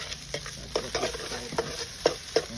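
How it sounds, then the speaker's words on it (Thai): Fried rice stirred quickly in a hot pan, with close, rhythmic scraping strokes over a soft, continuous sizzle and no talking. "คนเร็วเลยนะ ผัดจนให้เข้าแบบเหลืองๆนะครับ"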